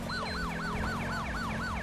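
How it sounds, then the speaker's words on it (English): A manual police siren from a patrol car in GTA V with the LSPDFR mod wails in fast, repeating rising-and-falling sweeps, loud and steady over a low engine hum. "the manual siren will play, and as soon as you let it go, it goes back to what it was"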